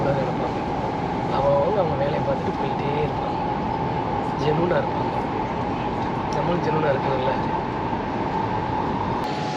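Inside a fast-moving high-speed train: a constant low rumble and steady whir run throughout while people talk quietly over it.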